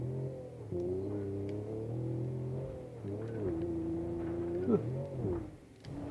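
Jeep-like car engine in the video game BeamNG Drive revs up and settles in steady tonal swells, rising pitch with each push of the throttle, fairly quiet and alone.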